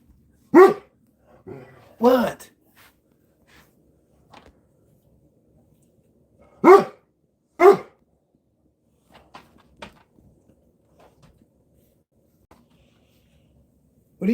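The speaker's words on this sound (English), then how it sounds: "What are you barking at? I thought it was the mail, but there's nothing there, you dumb dogs." Several dogs in a home bark in short loud bursts, a couple of sharp barks early, then two more after a pause, with faint clatter between and a person briefly speaking.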